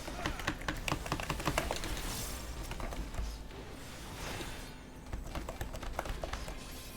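Rapid clattering of computer keyboard keys pressed in quick bursts, close and fairly quiet, with a brief lull partway through before the tapping picks up again.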